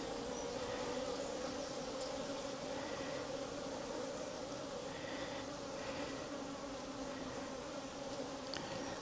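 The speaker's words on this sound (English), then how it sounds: "she's getting that entourage of bees around her" Honey bees cluster around a queen placed on a frame in a summer hive, a dense, steady buzzing drone close to the microphone with no pauses or voices.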